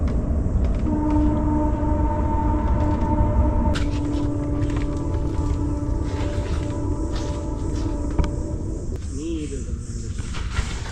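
A train rumbling past nearby, loud and continuous, with a steady whine, then a brief horn-like wail near the end and faint voices.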